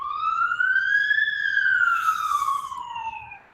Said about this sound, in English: I hear an ambulance, and I've heard a couple of fire trucks go by.